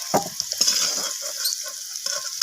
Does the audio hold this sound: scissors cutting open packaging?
no